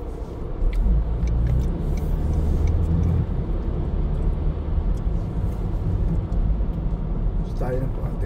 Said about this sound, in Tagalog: Medyo traffic ng konti.